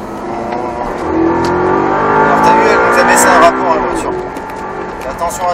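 An Audi R8 at a driving course, its engine revving up and swelling as the automatic gearbox kicks down a gear, loud and close for several seconds beneath steady talking inside the car.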